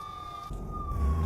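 A truck's emergency siren in multiplayer Euro Truck Simulator 2 sounds as a steady, piercing high tone, loud and close, over a low engine rumble that swells toward the end.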